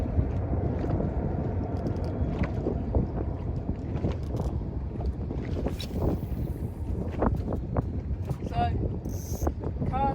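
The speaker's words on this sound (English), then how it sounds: "it's getting windy" Wind gusts across a boat on Botany Bay, a steady broadband roar with buffeting microphone noise throughout, mixed with faint creaks and splashes.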